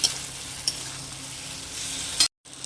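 Spiced taro (kochu) stir-fries in a pan over low heat, a close, steady sizzle with brief scraping stir strokes at intervals and a short cut near the end.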